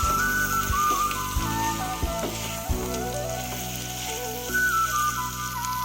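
Fish curry with spices and salt frying in a pan gives a steady close sizzle, broken by several soft thumps and scrapes of stirring, with faint whistle-like tones running over it.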